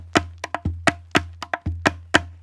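A Hawaiian ipu gourd drum is played in the kahela beat: deep hollow thumps alternate with sharp hand slaps in a steady, repeating rhythm, close and clear with nothing else heard.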